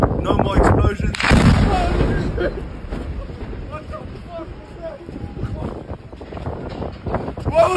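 Loud explosion-like blast with a booming low rumble, heard in a combat zone in Khan Yunis, followed by continuing outdoor noise and wind buffeting, with voices present.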